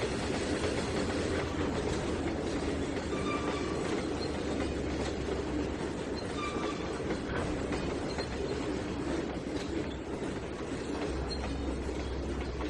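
A long, heavy freight train in the Trainz 2019 simulator rolls forward with a continuous rumble, rhythmic wheel clatter and occasional faint squeals, loud and steady throughout.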